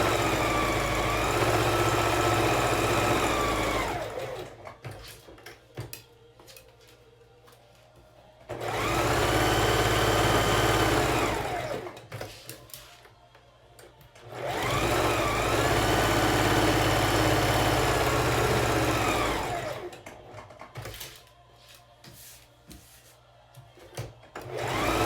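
Sewing machine stitching a quarter-inch seam around a fabric face mask with a filter pocket, three long loud runs of rapid motor whir separated by short quiet pauses.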